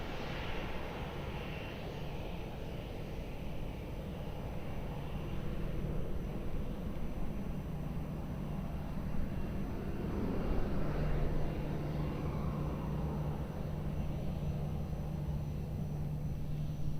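An airliner takes off from runway 02 at Lisbon Airport, its engines a steady, loud, broadband roar that holds for the whole stretch and swells slightly midway, with no voices.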